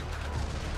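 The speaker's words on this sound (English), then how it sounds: "More rockets?" Rockets fired during a Spider-Man video game fight, heard as a dense, continuous rumble of explosive booms layered close together for under a second, loud and low with no clear gaps.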